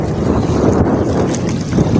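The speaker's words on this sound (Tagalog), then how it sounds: "malakas yung alon at hangin" Strong wind roars and buffets the microphone over the low rumble of rough waves and a fishing boat at sea, loud and constant.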